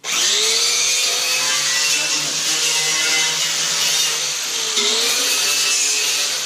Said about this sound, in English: get a wire brush or a wire wheel, and you're going to clean off all the spot welds